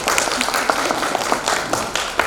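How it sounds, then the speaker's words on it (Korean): An audience at an HRD forum applauds as a presenter is welcomed to the stage: moderate, slightly scattered clapping that holds steady for a couple of seconds. "힘찬 박수 부탁드리겠습니다"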